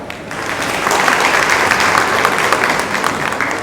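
A conference hall audience on sustainable waste management breaks into loud, sustained applause, a dense wash of many hands clapping steadily throughout.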